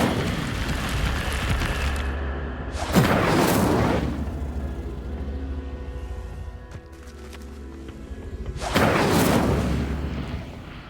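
A fire spell is cast twice in Hogwarts Legacy, each a loud roaring burst of flame sweeping in and lasting about a second, with a low steady rumble and faint game ambience between them.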